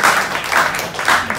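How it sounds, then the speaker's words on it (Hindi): An audience applauds in a short, loud burst of clapping with rhythmic swells, close and continuous. "जोरदार ताली है इसके लिए"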